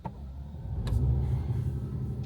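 A car engine idling and lightly revving nearby, a low steady rumble with a couple of brief clicks or thumps, heard alone without talking.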